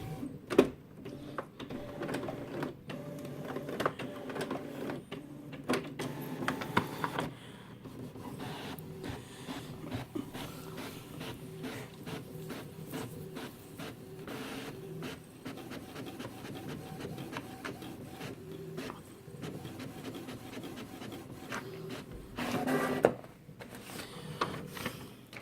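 An HP PhotoSmart inkjet printer prints a Christmas card with long, quiet runs of mechanical whirring and shuttling, broken by clicks and paper-feed clunks near the start and end.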